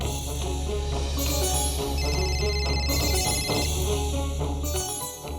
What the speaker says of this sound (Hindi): ये अनमोल का ही फोन होगा।